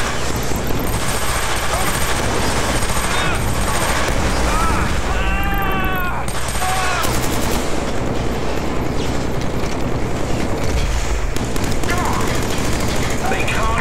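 Rapid bursts of automatic gunfire and explosions from the Killzone 3 game on the Frozen Dam map, loud and dense throughout with someone talking over the battle.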